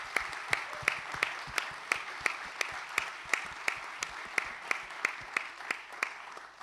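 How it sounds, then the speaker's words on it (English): An audience at a conference panel discussion claps in a steady, rhythmic beat, the claps evenly spaced and fairly loud, with no voices over them. "Big round of applause for the team that brought this fantastic conference here."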